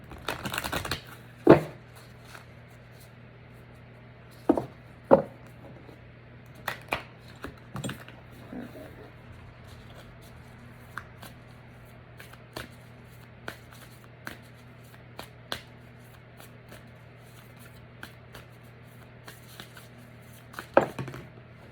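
Oracle cards are handled and shuffled in a quiet room, giving a handful of brief, crisp riffles and taps spaced irregularly over a low steady hum.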